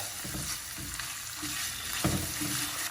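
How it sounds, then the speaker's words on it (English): Bacon cubes sizzle and crackle steadily in a hot pan for a fusilli dish, a constant close frying hiss with occasional stirring scrapes. "we're just going to let them get the perfect sizzle and char"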